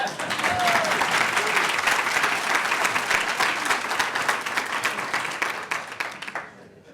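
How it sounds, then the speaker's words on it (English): Sustained audience applause for an award recipient at a business and women's awards ceremony, loud dense clapping throughout that fades out at the end. "please applaud for her"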